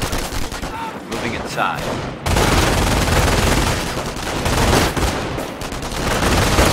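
Loud, continuous machine-gun bursts and mixed gunfire rattle through a Company of Heroes World War II battle, thickening after a moment, while a soldier's voice calls out briefly over the early part.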